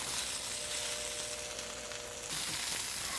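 Steak and small-cut vegetables stir-fry in a wok, a steady close sizzle and hiss that swells louder toward the end.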